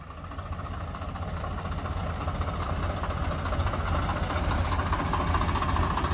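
A Swaraj 735 FE tractor engine runs in reverse gear during a test, giving a steady, loud, low diesel drone that builds slightly and continues throughout.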